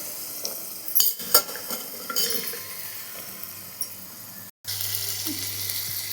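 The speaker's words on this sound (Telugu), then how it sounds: "ఇవి కొద్దిసేపు నూనెలో వేగించుకోవాలి." Chickpeas frying in oil for a vegetable biryani, a soft steady sizzle with clinks and stirring scrapes of a utensil against the pan, heard close with no talk.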